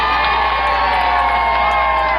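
A crowd at a pro wrestling street fair show cheers and shouts in a steady, loud, continuous roar with no breaks.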